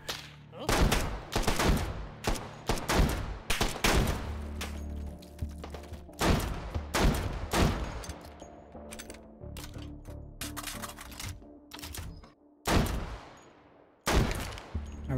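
A gun firing MP7 rounds in the virtual reality shooting game H3VR: loud, close bursts of rapid automatic fire in repeated volleys with short gaps, echoing shots between them.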